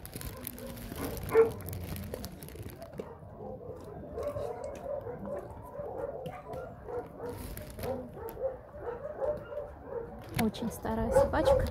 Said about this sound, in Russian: Очень старая собачка